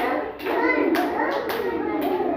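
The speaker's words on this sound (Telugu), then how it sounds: "క్లాప్స్ కొట్టండి." Several sharp, rhythmic hand claps from children, roughly every half second, close and fairly loud, during an outdoor kids' activity of walking barefoot on leaves.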